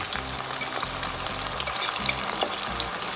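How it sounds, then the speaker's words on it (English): Chicken sizzles and crackles steadily in hot coconut oil, a dense frying hiss with a low hum running underneath. "I'm start frying the chicken now."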